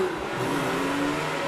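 A Porsche 924 race car pulls away from the start line at the Prescott hill climb, its engine droning steadily and loud throughout the short burst.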